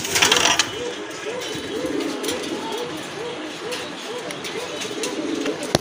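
Pigeons coo in a repeated, steady rhythm of soft low calls, close by at a pigeon seller's loft, with a brief louder rustle at the start and faint background noise throughout.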